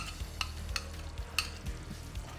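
Fresh cream being stirred into a simmering curry gravy, with a steady low bubbling sizzle and a few light utensil taps against the pan, close up with no talking.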